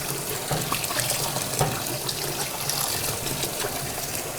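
Lukewarm water runs steadily from a tap into a basin as fabric is prepared for plant dyeing with crape myrtle, giving a constant close gush with no voices.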